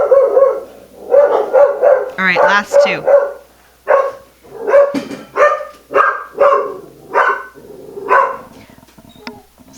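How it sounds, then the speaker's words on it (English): Several dogs bark repeatedly in the background, in a steady run of sharp barks, while a person keeps talking over them. "I'm going to blame it on the barking dogs in the background."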